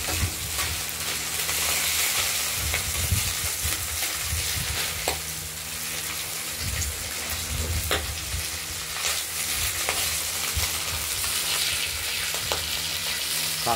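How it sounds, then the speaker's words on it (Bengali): Steady close sizzle of a katla fish head frying in oil in a pan, with intermittent stirring clatter and scraping over the constant hiss. "কাতলা মাছের মাথার মূল মাথাটাকে ভালো করে একটু ভাজতে হবে।"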